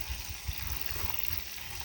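Water pours into a garden bed fitted with water windows, making a continuous gushing, bubbling flow close by, with soft low glugs pulsing irregularly beneath a bright steady hiss.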